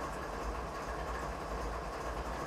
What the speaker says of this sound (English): Definitely a heavy train, as you guys can see.